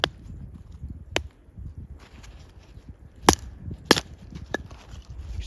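Wood being chopped into small kindling pieces outdoors in snow for a campfire, with sharp, bright hatchet strikes landing irregularly, several loud cracks among softer taps over low background rumble.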